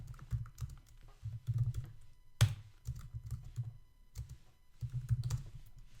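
Code for a PHP lesson being typed on a computer keyboard, with close, quiet bursts of rapid keystrokes broken by short pauses and one sharper key strike, with no voices.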